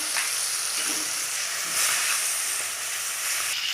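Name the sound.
fish frying in oil with turmeric and salt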